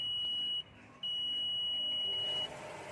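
A steady high-pitched electronic buzzer tone from a multimeter in diode mode testing a DB3 diac sounds twice, first briefly, then after a short gap for about a second and a half, over faint background hum.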